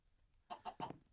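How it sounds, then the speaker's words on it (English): A chicken on a farm gives three quick clucks in a short burst, close and fairly loud, against quiet background noise. "this chicken is just wanting all our attention"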